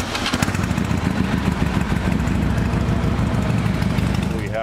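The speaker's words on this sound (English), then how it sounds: "We have loud motorcycles." Loud, constant motorcycle engine rumble with a rough idling drone inside a Harley-Davidson dealership, steady and close throughout.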